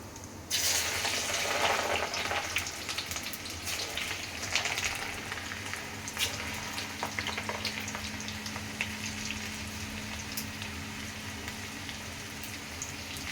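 Garlic, mustard seeds and cumin sizzle loudly in hot oil, a steady bright crackling hiss that starts abruptly and holds with small pops throughout.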